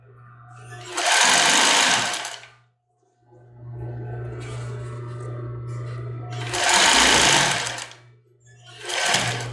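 A sewing machine stitches fabric while a cropped top is made, running in two loud, buzzing bursts with a brief pause between them and a short final burst, over a steady low motor hum and faint background talk.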